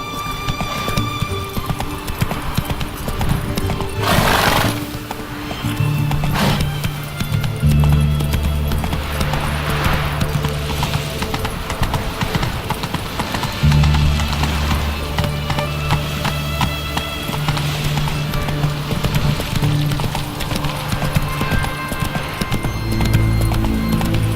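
Horse hooves clip-clop at a steady gallop through The Witcher 3, loud and continuous, with a whinny and bursts of music or game effects over the rhythm.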